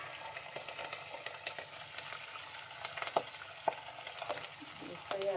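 A tempering frying in a covered pan for mango chitranna, giving soft crackling and sputtering with a few sharp pops, faint and close under a low, steady hiss.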